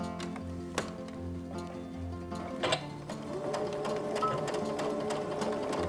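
Sewing machine stitching back and forth to tack the ends of a fabric face mask, a steady close mechanical whir with ticking needle strokes that briefly pauses and then picks up again, running alone.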